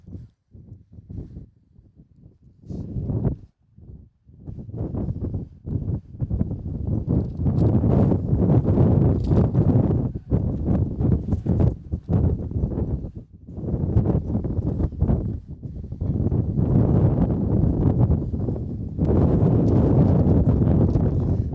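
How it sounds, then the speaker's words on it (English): Strong wind gusts outdoors at a high school baseball game, a broadband roar buffeting the microphone in surges that come and go, loud and steady in the later stretch with no one speaking. "that wind is blowing harder than it was last night when we were out here"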